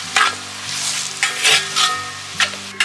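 Ginger sautéing in a pan for ingimanga pickle, a steady close sizzle punctuated by several distinct ringing metal spatula strikes against the pan, no speech.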